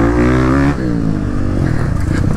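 A motorcycle engine revs loudly on an off-road trail ride, its pitch climbing at first, then settles into a rough, steady running drone.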